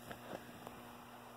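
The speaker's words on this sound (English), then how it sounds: "you can hear the hum of the heater back there." A heater runs behind a faulty relay setup whose contacts have failed, giving a faint, steady electrical hum with a few soft clicks, low in level and with no talk.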